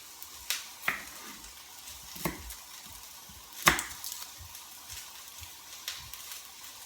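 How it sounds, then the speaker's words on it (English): Two cloves of garlic frying in a pan for sticky ginger beef and noodles, a soft steady sizzle broken by a few sharp clicks and utensil scrapes, no talking. "I'm going to cook that with my 2 cloves of garlic"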